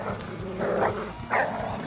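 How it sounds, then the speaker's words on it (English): Dogs attacking a hunting party in an animated film scene, with a couple of short, close yelping barks over a busy background soundtrack. "It's the dogs I saw from my dream. They're attacking the hunting party."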